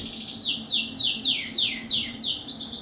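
Young birds in aviary flights give a string of high descending chirps, roughly one every half second, moderately close over a constant low background hum.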